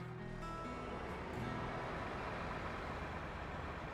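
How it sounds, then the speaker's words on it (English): Small four-wheeled dump truck in the video game SnowRunner, its engine running as a steady, dense rumble with some tonal whine early on, even in level throughout and heard without talk. "Little four-wheeler dump truck."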